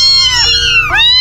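Kittens meow in a small garage bathroom, two clear, close, rising and falling cries in quick succession with no talking.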